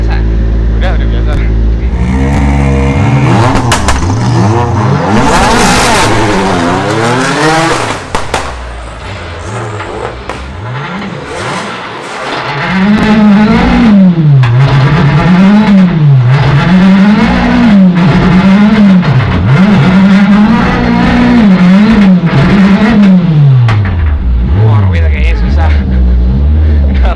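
Drift car spinning donuts with its engine revving hard and sustained, rising and falling in pitch throughout, loud and close, with speech underneath.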